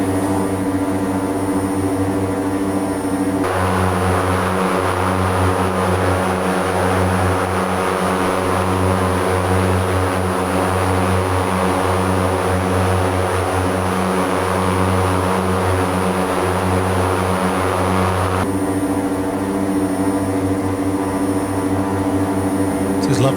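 An OV-10 Bronco twin-turboprop in Microsoft Flight Simulator drones steadily throughout, with a constant engine hum and propeller buzz that shifts in texture partway through, and a voice talks intermittently over it.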